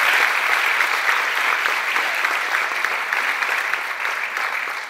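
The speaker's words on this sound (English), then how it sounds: "Please give her a round of applause." Steady, dense applause from a crowd at a high school spring sports awards ceremony, sustained at an even, fairly loud level for the whole stretch with no break.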